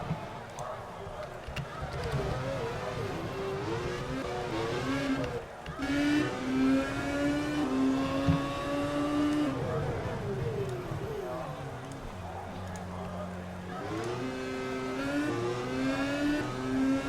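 Race cars in a racing video game whine around a wet track during a practice session in Brazil, with overlapping engine tones rising and falling as cars accelerate, running steadily under continuous commentary.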